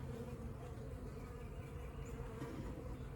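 Honey bees buzz steadily in an open swarm hive, a dense, continuous low drone at close range with no voices, soft but unbroken throughout.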